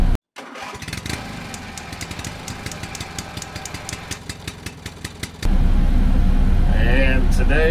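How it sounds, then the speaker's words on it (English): A gas turbine generator runs with a steady, loud mechanical roar after a brief silent gap, then jumps louder with a broadband rush near the end, with a voice speaking over it. "working on a gas turbine generator."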